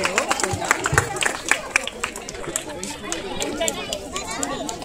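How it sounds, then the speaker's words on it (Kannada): An audience claps loudly for prize winners at a Ganesha festival event, with crisp hand claps over a bed of crowd chatter that fade into murmuring voices. "ಜೋರಾದ ಚಪ್ಪಾಳೆ."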